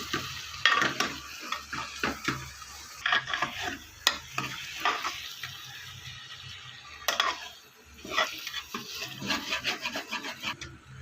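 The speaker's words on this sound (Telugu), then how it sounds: "అడుగట్టకుండా కలుపుకుంటూ ఉండండి." Tomatoes being stirred into frying potato curry, repeated scraping spatula strokes against the pan in uneven bursts over a low sizzle, close and fairly quiet, with no talking.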